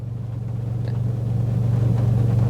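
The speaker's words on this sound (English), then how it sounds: "you can hear the burble and the kind of overall tone come back on" Low, steady exhaust burble from an Audi S3 8V with a stage 3 tune, Xforce non-resonated catback with valves and a 4-inch downpipe, idling nearby in a pulsing drone that swells slightly.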